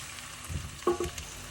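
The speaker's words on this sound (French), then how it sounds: "On va bien mélanger le tout." Carrot rounds, green beans and frozen peas stirred as they fry in a pan: a quiet, close sizzle with a few brief scraping and clinking strokes from the stir, and no voices.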